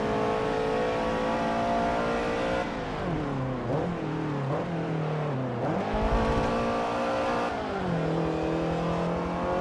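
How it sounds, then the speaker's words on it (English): Rotary-engined race car in Forza Motorsport 7 revving hard and continuously, its high buzzing note rising and dropping through gear changes, loud and close with no talking. "listen to that rotary"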